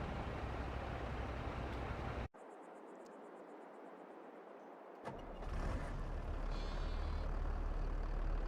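A truck engine runs in Farming Simulator 22 with a steady, broad rumble. It cuts out briefly, then returns slightly louder and keeps droning.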